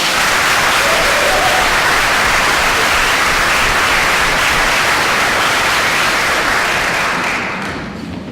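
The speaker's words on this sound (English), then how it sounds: "Give them one more hand of applause." A theatre audience at a playwriting showcase gives the directors a loud, dense round of applause, a sustained roar of clapping that stays full for most of its length and tapers off at the close.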